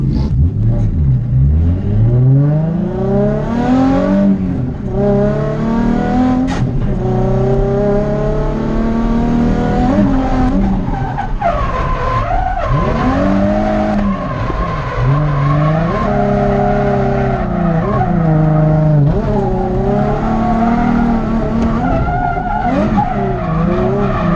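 Drift car on a warm-up lap at an entry-level drift competition, its engine revving loudly and rising and falling with gear changes, tyres squealing and skidding throughout, close and continuous.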